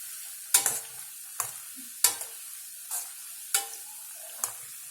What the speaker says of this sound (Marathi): याकरता हे आपल्याला स्लो मीडियम वरतीच तळून घ्यायचं आहे